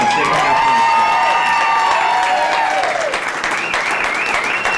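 An audience at a chamber of commerce awards ceremony applauds and cheers the Volunteer of the Year, with dense continuous clapping, whoops and whistles rising over the crowd noise.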